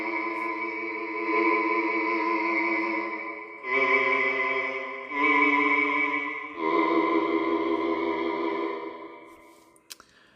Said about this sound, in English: in its default setting, it's kind of like a monk chanting patch